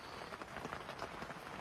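Rain falling outside a tent at New Year, a steady close wash of patter on the fabric with no pauses, continuous and fairly soft throughout.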